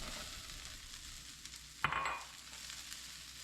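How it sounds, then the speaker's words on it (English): Broccoli hitting a hot buttered pan, giving a sudden loud burst of sizzling that flares up and then settles into a steady, quieter frying hiss. "Now let's throw our broccoli in."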